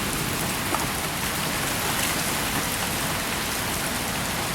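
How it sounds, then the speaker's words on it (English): Moderate to heavy rain pours steadily during a severe thunderstorm in Lincoln, Nebraska, a dense, continuous hiss of drops on surfaces with no wind gusts or voices, uniform in loudness throughout. "Right now it's just moderate to heavy rain."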